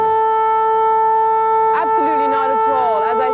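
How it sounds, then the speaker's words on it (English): Air raid siren sounding the all clear during the 1991 Gulf War, a steady sustained wail heard as if through a broadcast line, with someone talking over it in the latter half. "that's the all clear. Was there any unusual activity in the skies when the air raid siren came out?"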